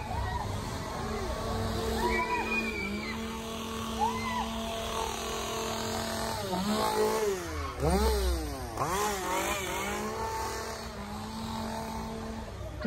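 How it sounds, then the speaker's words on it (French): A chainsaw held by a costumed performer at a Halloween haunted house in Parc Astérix idles and then revs up and down repeatedly, its whine rising and falling in pitch, fairly close. "Le monsieur que vous voyez avec sa tronçonneuse en sort, il en fait partie."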